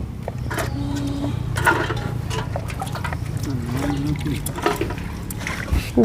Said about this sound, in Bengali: এবার ব্রোকলিগুলো হালকা করে ধুয়ে নেব